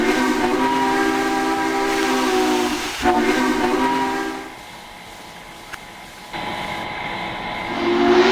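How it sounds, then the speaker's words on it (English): Two steam locomotive whistles on a double-headed train blow in long, loud sustained blasts, briefly breaking off and resuming, with hissing steam and rumble underneath. "each one of them blew their whistle"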